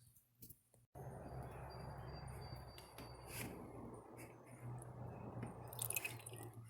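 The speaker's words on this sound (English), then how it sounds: "So we're gonna add some fluid in this." After a few faint clicks, fluid starts pouring in a steady gurgling stream into a car radiator opening, with small sloshes and drips.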